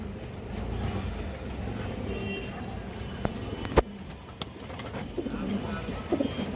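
Pure Giribaz Maxi pigeons, a mated pair, coo softly and steadily at close range, with a few sharp clicks and knocks breaking through a low background rumble.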